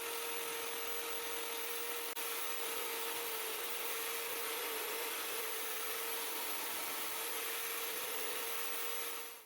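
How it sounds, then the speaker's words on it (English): A portable power sander whines steadily on wood for an oil can guitar, a constant high-pitched drone with a faint tonal hum, running alone without any talking. "so we'll use that portable sander now."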